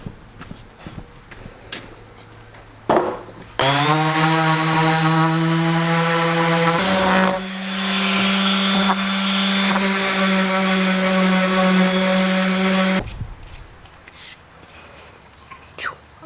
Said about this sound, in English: All right, let's go sand.